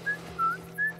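A character whistles in The Last of Us Part 1, three short clear tones, each rising slightly, spaced evenly over about a second against a low steady hum.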